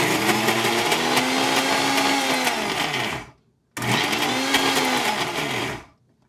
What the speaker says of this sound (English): this is a Preeti Eco Twin blender